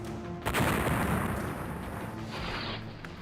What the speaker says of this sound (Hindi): और फिर इंडियन आर्टिलरी और सेंचुरियन टैंक्स ने गोलाबारी शुरू की।